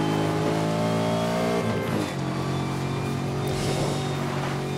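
Car accelerating hard in Need for Speed Most Wanted 2012, engine revving loud and close with rising pitch, a brief dip at a gear change, then climbing again.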